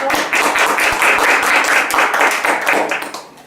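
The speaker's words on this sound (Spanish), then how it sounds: "un fuerte aplauso" Audience applauding a guest speaker at a training session, brisk close clapping from a modest group with distinct individual claps, fading out near the end.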